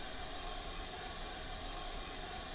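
Heavy train behind a steam engine straining to get moving, a faint steady hiss and rumble holding without any clear chuffing rhythm.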